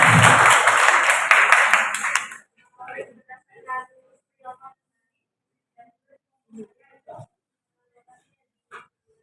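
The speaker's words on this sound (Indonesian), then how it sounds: "Oke, terima kasih. Tepuk tangan." Applause from a lecture audience at a university guest public lecture, a dense burst of clapping lasting about two seconds at the start, then stopping abruptly, followed by scattered quiet speech and small sounds.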